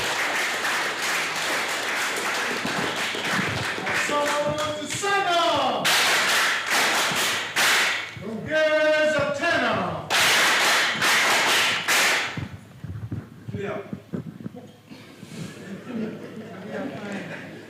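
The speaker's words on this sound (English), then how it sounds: "can we give a big round of applause to Nyaci elect" An audience at a meeting in a cultural center breaks into bursts of applause and crisp clapping, mixed with voices and loud, close speech over the top, then thins into scattered claps and chatter toward the end.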